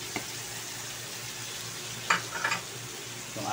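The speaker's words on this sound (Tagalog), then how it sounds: "habang nagpa-fry tayo ng chicken" Chicken wings fry in hot oil for buffalo wings, a steady close hiss of sizzling with a few brief louder crackles and pops breaking through.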